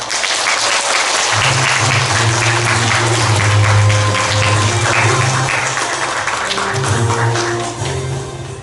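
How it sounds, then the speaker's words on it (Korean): Audience at the opening of a national speech and oratory contest in a hall applauds loudly and steadily, a dense wash of many clapping hands with a low tonal hum underneath, tapering slightly at the end. "여러분의 박수와 함께 시작하겠습니다"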